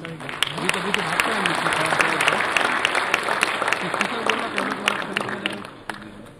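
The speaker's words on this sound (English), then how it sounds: "A big round of applause," Audience applause at an international computing conference inaugural session, a dense sustained round of clapping from a crowd filling the room, steady for several seconds before tapering slightly.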